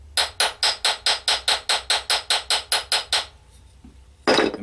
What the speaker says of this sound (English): give it a gentle tap on the end of a Allen key over here